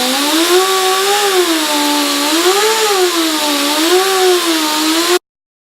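A die grinder buffs guitar frets with jeweler's rouge on a '59 Les Paul Special VOS, giving a loud, close, continuous high whine whose pitch swells and dips in slow waves as pressure changes, then stops abruptly.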